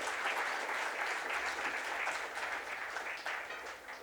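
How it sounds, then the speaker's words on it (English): Audience applause for panelists at a Chennai event, a fairly soft and even wash of clapping from a moderate distance that thins slightly toward the end. "Everyone give a round of applause to all our panelists."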